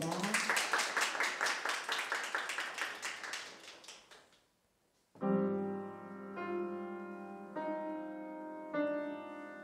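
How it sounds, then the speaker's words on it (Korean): Loud audience applause at a jazz piano performance opening ceremony in an exhibition hall, rhythmic clapping for about four seconds fading out, then sustained piano chords ring out in separate struck phrases. "모두 뜨거운 박수 부탁드립니다"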